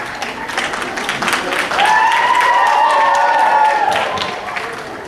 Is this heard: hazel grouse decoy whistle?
no